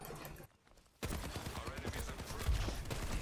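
Bastion's turret form in Overwatch firing rapid continuous machine-gun bursts after a short quiet gap, dense and loud through the rest of the moment amid other battle noise.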